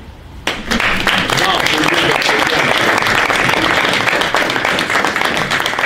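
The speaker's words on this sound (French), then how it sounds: "Si nous sommes d'accord que je n'ai pas mal parlé, on applaudit." Lecture audience breaks into loud, sustained applause after a brief quiet start, dense clapping filling the room close by and continuing evenly to the end.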